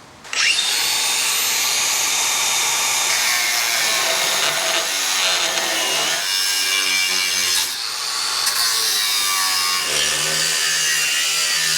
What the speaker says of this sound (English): So I've cut the mount off and I've ground back just enough to fit the measuring plate.